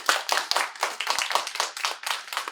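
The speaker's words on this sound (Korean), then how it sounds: "다시 한번 박수로." Sparse, distinct clapping at a church gathering after a personal testimony, a handful of hands patting in an uneven rhythm, close and fairly quiet.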